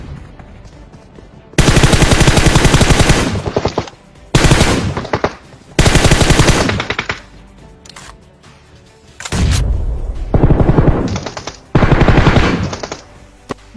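Machine gun fire in PUBG rips out in about six loud, sustained bursts of rapid shots, separated by short pauses of quieter background.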